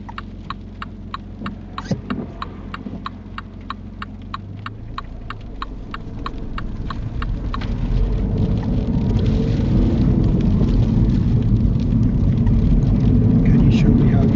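A car pulls away during a mock UK driving test: steady ticking of an indicator gives way to a low engine hum that grows louder and rougher as the car moves off.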